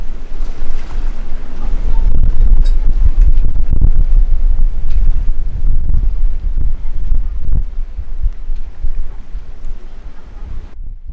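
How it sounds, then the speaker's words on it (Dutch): Strong, steady northwest wind in the Mediterranean roars and buffets the microphone at a sailboat's anchorage over low rumbling water and boat noise, loud and continuous throughout. "Deze harde wind uit het noordwesten komt geregeld voor in de Middellandse Zee."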